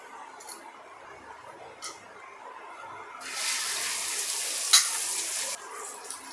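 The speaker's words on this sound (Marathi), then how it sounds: "फ्राय करायचे आहेत आपल्याला, मी तव्यावरच करून घेणार आहे। तेल टाकून घेऊया।" Ivy gourd (tondli) pieces hit hot oil on a flat iron griddle (tava), bursting into a loud, bright sizzle midway that holds for a couple of seconds before easing, after a few soft clicks in a quiet kitchen.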